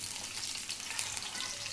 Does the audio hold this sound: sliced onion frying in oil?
yes